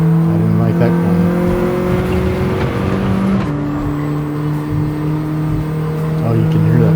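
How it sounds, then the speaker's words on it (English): Race car engine in Gran Turismo 7 drones loudly and steadily with a sustained turbo whine, pitch shifting once as the gear changes midway, under continuous in-game racing noise. "you can hear that turbo just whine."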